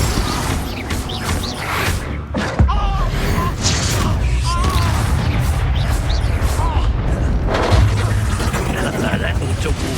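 Confringo blasting-spell explosions in the Hogwarts Legacy video game boom out amid dense combat noise, with a sharp burst near the start and continuous rumbling impacts, layered with game effects and voices throughout.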